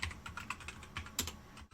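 Rapid clicking keystrokes on a computer keyboard set up for Japanese input, a quick uneven burst of close taps that stops abruptly near the end, with no talking.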